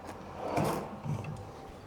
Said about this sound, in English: Another pull-out drawer here.